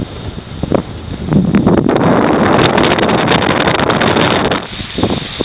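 Strong wind buffets the microphone while canoeing on the Exe estuary, loud rumbling gusts that swell and hold for several seconds, with paddle and water sounds around them.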